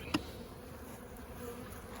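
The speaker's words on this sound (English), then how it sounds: "The bees that live there will come right up that wall and right out that hole." Bees buzz faintly around a hive entrance, a soft continuous drone with one brief louder buzz as an insect passes near early on, otherwise distant and low with no voices.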